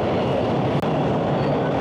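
A late-night subway train on the Kennedy line rumbles loudly and steadily, a dense continuous roar of wheels and carriage noise with no speech.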